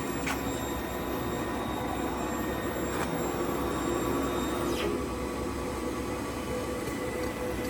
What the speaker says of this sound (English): We just hit the print button.